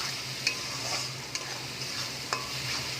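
A spice masala for chicken kofta curry, made with chilli powder, salt and sugar, stirred and fried in a pan. A steady soft sizzle runs throughout, broken by a few sharp scrapes of the spoon. No one speaks.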